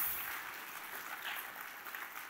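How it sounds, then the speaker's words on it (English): Congregation clapping during an Easter Sunday church service, a steady, even wash of applause throughout, moderately loud with no talk over it. "give him a clap of praise this morning right now"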